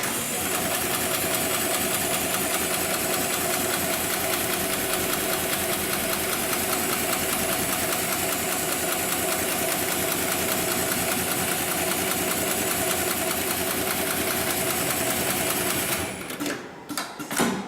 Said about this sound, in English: after that I'll push the pedal on the left hand side, and that'll initiate the sewing sequence